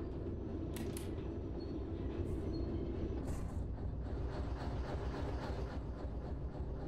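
Train wagons coupling in the railway simulator game Derail Valley: a constant heavy rail rumble with a couple of brief metallic clanks, close and fairly loud, with no voices.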